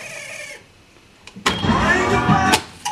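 A Sony TC 377 reel-to-reel tape deck rewinds, starting with a whirring motor and rising high-pitched tape spin that runs loudly for about a second before stopping abruptly, with a couple of mechanical clicks around it.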